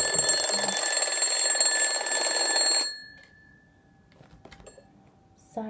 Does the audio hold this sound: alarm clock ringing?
yes